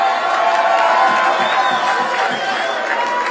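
An audience in a hall cheers and claps for a fourth-prize winner at a children's carnival song festival, a dense, loud crowd roar with scattered whoops that carries throughout.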